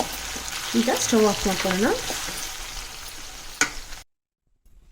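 Tomatoes frying in a pan on a stove until soft, a steady close sizzle running under a brief stretch of talking before it cuts off abruptly into silence.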